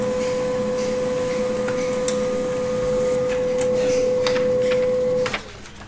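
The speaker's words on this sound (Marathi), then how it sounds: "प्रिंटद्वारे आपण याला प्रिंट म्हटलं तर ते आपल्या इकडे प्रिंट येऊन जाईल" A printer runs off monthly bill details for a school midday meal scheme, a steady loud mechanical whir with faint ticks and clicks throughout that winds down and stops near the end.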